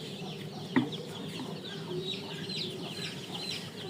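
A Tiger breed chicken clucks softly and repeatedly in a coop, with one sharper call near the start and steady low farmyard murmur underneath.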